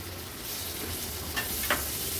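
Tomatoes are stirred into a frying squid kheema masala in a pan, a constant loud close sizzle with a couple of brief scraping spoon strokes near the end, no voices.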